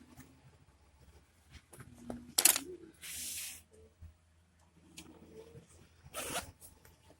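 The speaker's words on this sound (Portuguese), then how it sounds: "E vou fechar o zíper" An invisible zipper is pulled closed on fabric during sewing. Close by, a few short, quiet zips are followed by two longer, louder rasping pulls, separated by soft handling noises, with no talking.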